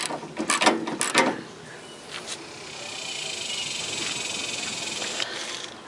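Small metal clicks and ratcheting as a bolt is loosened and removed from the door of a 1977 MGB Roadster during a restoration teardown, a few close, sharp ticks early on, then a steady faint hiss.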